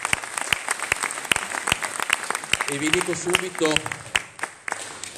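Applause from an audience at a civic festival gathering, a bed of clapping marked by steady, sharp individual claps close by, with someone speaking briefly over it partway through.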